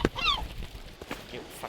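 A seagull in the climbing game Peaks of Yore gives a short squawking call up close, followed by a few faint rustles and thumps.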